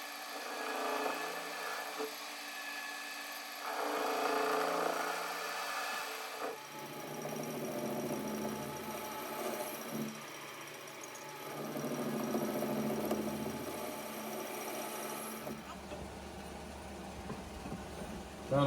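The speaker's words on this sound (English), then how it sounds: "I'm going to just counterbore the boss." A manual lathe (PM 1228VF-LB) counterbores the boss of a carriage reduction gear, giving a steady machine hum with a rising and falling cutting tone that shifts in pitch over the run and ends abruptly.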